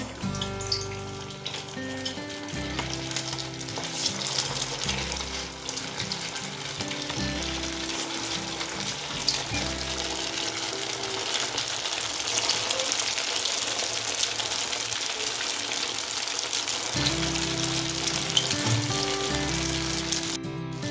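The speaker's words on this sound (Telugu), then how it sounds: "ఇప్పుడు అవి ఆయిల్ స్లోగా వేసుకోవాలండి" Bread balls (burelu) for Bonalu frying in hot oil, a continuous loud bubbling sizzle with occasional stirring and brief gaps, no talk.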